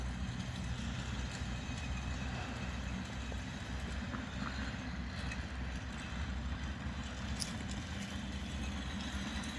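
A small passenger ride train, the Smart Train, rumbles along in a steady, continuous drone with faint clatter throughout, heard from on board at moderate level with no talking.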